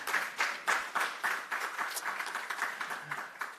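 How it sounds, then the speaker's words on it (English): Applause from an audience at an engineering and computing training awards ceremony, a steady patter of clapping hands with sharp individual claps standing out, moderately loud and sustained. "you can clap."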